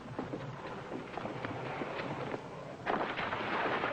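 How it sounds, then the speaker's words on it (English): Rumbling bombardment explosions in a 1954 sci-fi serial, a dense continuous roar of blasts and crackles with a louder surge near the end, no voices. "Cleolanta, thinking only about her own people, bombarded Visita"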